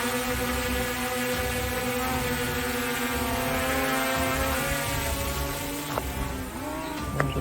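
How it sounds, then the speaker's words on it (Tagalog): A drone's propellers whir in a steady, loud, tonal buzz that holds for several seconds outdoors above a landslide-damaged mountain road in Antique, with no voices over it. "Prepara natin ang drone."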